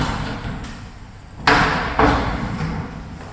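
A large steel tool box, a 96-inch 17-drawer JIMY TOOLS unit in a workshop, thumps and clanks loudly twice as its sections are opened, with a softer knock before and a lingering hum between.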